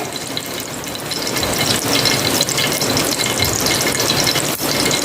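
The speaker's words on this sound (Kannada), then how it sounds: "ಈಗ ಇದಕ್ಕೆ ತುಪ್ಪ ಹಾಕಿಕೊಳ್ಳಿ. ತುಪ್ಪ ಹಾಕಿದ ಮೇಲೆ" Ghee heating in a pan for ghee rice, giving a loud, continuous crackling sizzle with scraping and stirring noises mixed in throughout.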